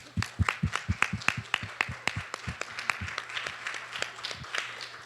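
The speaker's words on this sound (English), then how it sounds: "I will give you your applause now" A small group claps in uneven, sparse bursts, the applause starting strong and then thinning out over a few seconds.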